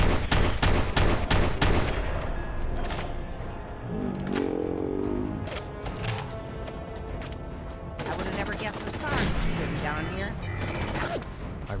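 Gunfire aimed at a sentry bot in Fallout 4 rattles in rapid, closely spaced bursts, heavy at the start and again later, with mechanical clanks and game sounds in the gaps between volleys.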